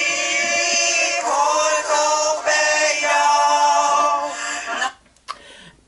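An alto sings a second-voice line recorded on an iPhone at rehearsal, a sustained melodic phrase for about five seconds before it cuts off into small handling noises.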